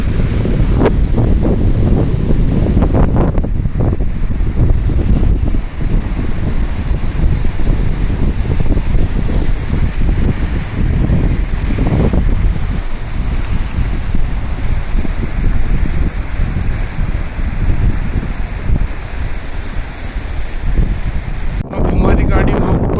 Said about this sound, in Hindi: ये नदी का व्यू है, आपको आवाज़ आ रही होगी।